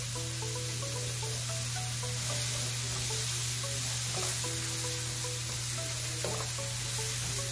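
Zucchini and onion frying in a pan, a continuous soft sizzle with a few faint clinks of stirring over a steady low hum, no voices.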